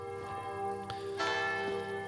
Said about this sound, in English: Oh, and I really want to get away from that bell.